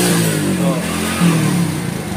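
A Honda Astrea Grand motorcycle engine revs under throttle, struggling and holding back at higher speed, a steady close droning note that rises briefly near the middle, with no talk.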